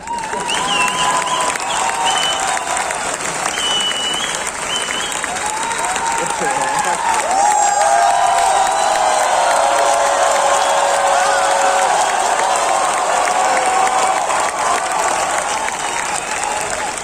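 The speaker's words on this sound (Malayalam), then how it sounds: "കൈയടിച്ചാൽ നിങ്ങൾക്ക് കൊള്ളാം." A large audience claps and cheers continuously for a speaker on stage, sustained applause with scattered whoops and voices mixed through it.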